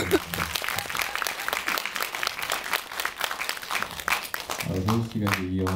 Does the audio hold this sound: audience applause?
yes